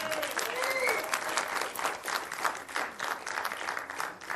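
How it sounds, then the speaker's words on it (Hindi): Audience applause for Govinda at the 'Aa Gaya Hero' trailer launch, a steady dense clapping from a large crowd that carries through the whole stretch, with a brief voice over it at the start. "गोविंदा जी के लिए जोरदार तालियां हो जाए।"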